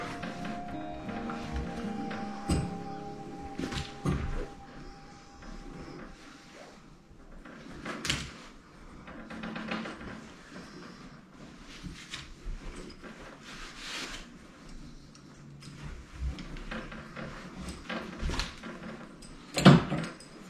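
A pipe cutter rolled repeatedly around a pipe to score it, giving uneven scraping and clicking turns with intermittent clunks and a louder knock near the end.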